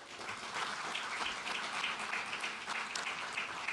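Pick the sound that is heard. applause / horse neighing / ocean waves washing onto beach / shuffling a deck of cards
applause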